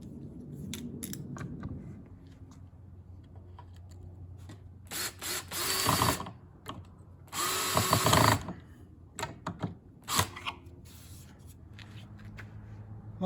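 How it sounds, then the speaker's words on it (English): A clamp being cranked down on two glued-together skateboard decks, with bursts of ratcheting, scraping clicks and a couple of louder grinding turns, close by in a quiet workshop. "we'll put another clamp on"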